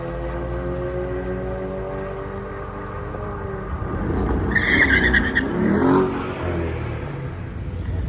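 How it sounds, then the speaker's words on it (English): A VW Golf R racing a VW Passat at Orlando Speed World, with engine drone building into a loud roar, a brief tire squeal and a rising rev as the cars pass at close range. "Buddy Ernest with his Golf R going against the Passat"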